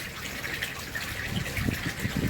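Fluid gushing and bubbling from a knife-punctured dead pacu fish held underwater, a continuous close watery gurgle with low bursts growing stronger toward the end.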